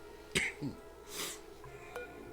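A short cough and a throat-clearing snort, then a faint sniff, quiet and close, with nothing else around.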